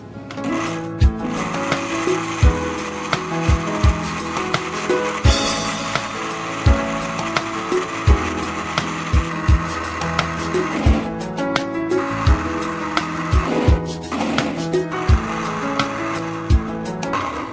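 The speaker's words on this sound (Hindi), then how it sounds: "और अब हम इसे करेंगे ब्लेंड।" A kitchen blender whirs steadily as it blends mango with condensed milk, its motor droning under a rhythm of repeated knocking thumps for a long, continuous stretch.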